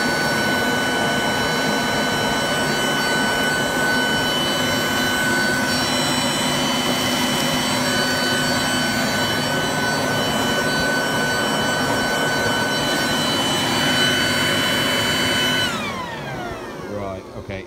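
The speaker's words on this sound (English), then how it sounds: "And this is its power as a blower." A Ryobi RBV3000CESV electric leaf blower vacuum runs with its collection bag removed, a loud steady whining roar that holds for most of the time before cutting off and spinning down near the end.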